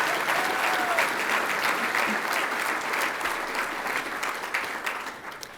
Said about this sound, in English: a round of applause for Service Excellence in Job Placement Services